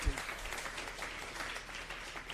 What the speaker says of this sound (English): The round of applause would be energetic